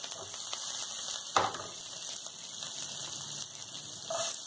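Cumin seeds and green chillies frying in hot refined oil in a home kitchen, giving a steady close crackling sizzle throughout with a brief sharper spatter burst near the start.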